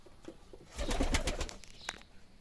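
Taklacı Arap tumbler pigeons cooing close by, a soft throaty burst of coos swelling in the middle then fading, with faint rustling around it.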